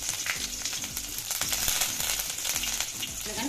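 Curry leaves, mustard seeds and chopped garlic frying in hot oil for an egg curry, a steady close sizzle with crackling pops and light stirring throughout.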